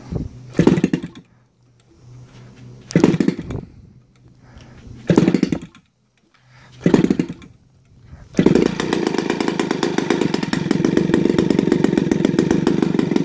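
A small DA 50 gasoline model aircraft engine with CDI ignition coughs through four short pull-start bursts, then catches and runs steadily at a loud, buzzing idle.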